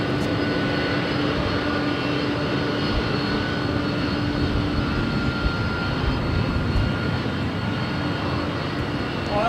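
A Delta heavy jet airliner at LAX roars steadily and loudly from engines near the runway, a broad constant rumble with a thin whine on top for the full span.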